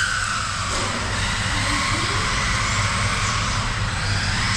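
An SG1608 Pro RC car's electric motor whines steadily at full power, loud and close, with a continuous buzzing drone and no pauses or speech for the whole stretch.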